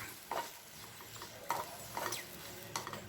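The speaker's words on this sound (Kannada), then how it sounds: "ಬೆಂಡೆನ ಸ್ವಲ್ಪ 1-2 ನಿಮಿಷ ಫ್ರೈ ಮಾಡಿದ್ರೆ ಸಾಕು" Okra being dry fried in a pan, with soft spatula stirs and scrapes landing at irregular intervals over a faint low sizzle, quiet and close, with no talking.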